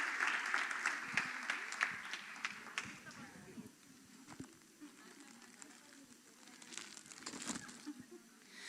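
An audience claps at a Spanish-language teaching talk on children's ministry, a burst of scattered applause with voices over it that thins out partway through, then picks up again faintly near the end.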